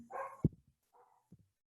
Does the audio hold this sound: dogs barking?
yes